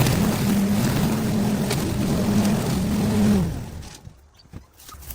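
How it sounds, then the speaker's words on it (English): A lawn mower engine drones steadily and fairly loud while mowing over invasive weeds at an abandoned, mud-filled ruin, then cuts away abruptly partway through, leaving quiet. "I'm just going to mow over them"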